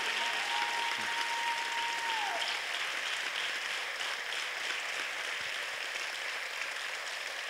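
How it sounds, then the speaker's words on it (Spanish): A church congregation applauds in a sustained, even wash of clapping that fills the whole stretch, moderately distant, with a brief tone at the start. "Yo creo que el Señor se merece un mejor aplauso"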